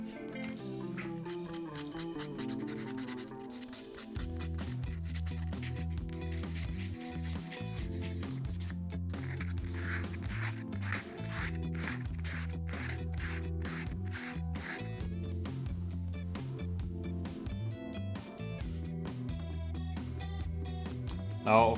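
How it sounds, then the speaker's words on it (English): A wooden ring being hand sanded, giving quiet, rapid, rhythmic scratchy rubbing strokes that repeat steadily throughout. "so we're switching to hand sanding."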